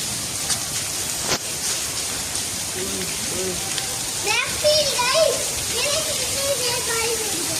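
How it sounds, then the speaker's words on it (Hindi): Heavy rain pouring down under a darkened sky, a dense continuous hiss of drops on surfaces, with children's voices chattering and calling over it. "दोबारा से स्टार्ट हो गई है बारिश।"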